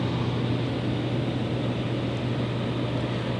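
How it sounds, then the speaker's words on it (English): A 2015 Chevrolet Silverado 1500 High Country's 5.3-liter V8 idles steadily, a constant low hum and broadband rumble heard close up with no talking. "Smooth running engine."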